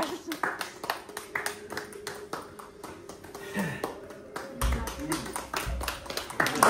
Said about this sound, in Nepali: ब्याकग्राउन्डमा म यस्तो ताली बजाएको गरेको